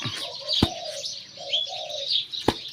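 A spotted dove used as a decoy bird in a Thai dove-calling setup coos outdoors in a few soft, low phrases, with sharp clicks and faint chirps from other birds around it.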